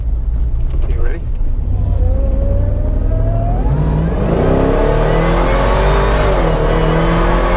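A Jeep Wrangler Rubicon fitted with a supercharged LT4 engine accelerates hard, its pitch climbing steadily through the gears with a loud, close, continuous roar and supercharger whine, heard from inside the vehicle.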